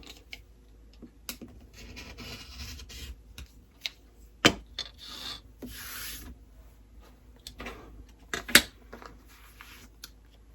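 Fabric is trimmed along a seam of a sewn quilt block, giving faint, intermittent scraping rustles broken by a few sharp snips, with no talking.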